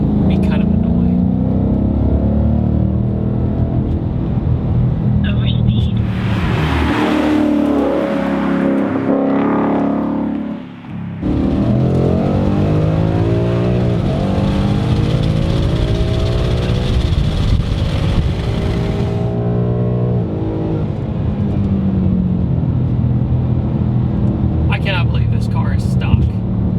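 A 2018 Ford Mustang GT, stock engine, drives a twisting mountain road, its V8 rising and falling loudly through repeated revving and gear changes, with a brief dip around the middle.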